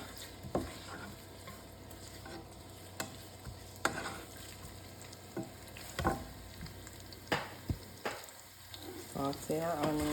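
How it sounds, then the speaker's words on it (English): Onions sautéing in oil in a pan with seasoning, a low steady sizzle broken by clicks and scrapes of stirring, close and moderate in level. "Saute our onions."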